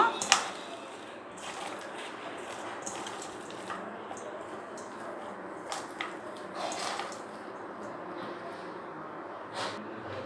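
Wet squelching and soft rustling as sliced onions are mixed by hand, steady and close, with occasional faint drips.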